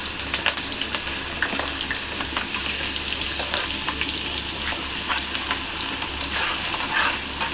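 Beans and carrots stir-fried in a hot pan for veg fried rice, a continuous crackling sizzle with frequent light spatula scrapes and taps throughout.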